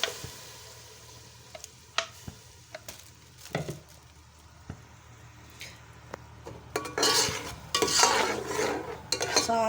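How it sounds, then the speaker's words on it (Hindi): Tomato paste fries in a pan with onion, ginger-garlic paste and whole spices, with a soft sizzle under scattered spoon clinks and scrapes against the pan, swelling into louder stirring and sizzling toward the end. "अब हम इसके अंदर 1 अदद टमाटर का पेस्ट डालेंगे।"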